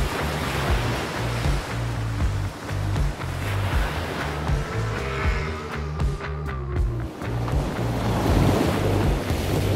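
Surf rolls onto a beach in South Lombok, Indonesia, a loud and continuous wash of breaking waves with heavy wind buffeting the microphone throughout.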